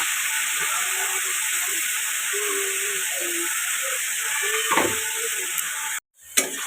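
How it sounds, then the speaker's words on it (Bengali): Vegetables frying in a pan after tempering spices and salt are added in a home kitchen, a continuous hissing sizzle with a few stirring scrapes, cutting out abruptly near the end before a brief clatter. "এখন একটু ভাজা ভাজা করে নেবো"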